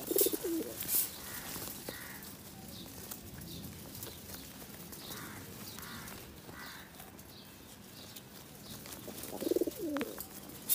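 Kaldam pigeons cooing in a loft, soft repeated coos at a moderate distance with a few louder calls near the start and end.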